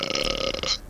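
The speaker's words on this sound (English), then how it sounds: "My god, there's a lot of belching this evening." A loud, drawn-out burp lasting nearly a second, heard during a Forza racing game session, close and clear with no talk over it.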